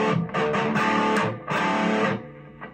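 Distorted electric guitar chugs a riff with two punchy staccato downstrokes closing the phrase, close and loud with short gaps between hits.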